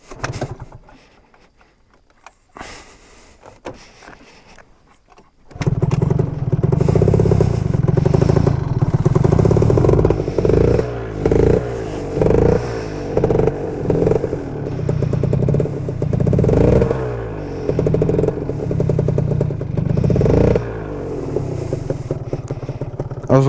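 A Gilera Runner FXR 180 two-stroke scooter engine starts after a quiet lull, then runs loud and close with a raspy, crackling idle and several revs rising and falling, without talk.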